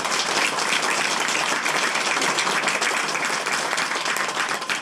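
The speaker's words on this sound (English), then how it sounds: "I want to hear another round of applause for all the volunteers that did so much work" A crowd at the Granbury Field of Flags closing ceremony applauds the volunteers, a loud, continuous wash of clapping that stays full throughout and fades only slightly at the end.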